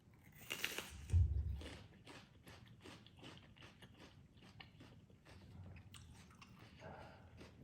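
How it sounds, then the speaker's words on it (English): Someone bites and chews raw onion dressed with sauce in a salmon salad, giving a crisp crunching bite followed by a run of quiet, rhythmic close-up chewing. "maybe I'll just try it with the sauce and truly taste the onion"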